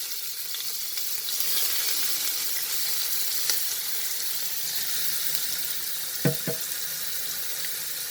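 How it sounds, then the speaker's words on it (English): Onions frying in oil for a vegetable tehri, a steady close sizzle running throughout with a couple of brief clinks near the end. "The onions will slightly get cooked in this oil."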